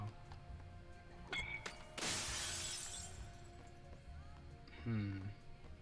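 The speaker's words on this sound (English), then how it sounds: "I smashed some glass though." A sudden burst of shattering glass in the video game Dead Rising 2, one sharp crash that decays into tinkling debris, heard amid game background noise, with a brief muffled noise near the end.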